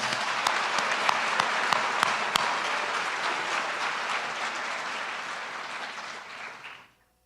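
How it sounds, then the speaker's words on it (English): A crowd at a high school signing ceremony applauds steadily, dense clapping with a few sharper nearby claps, then it tapers and stops abruptly near the end. "Let's give Victoria a round of applause."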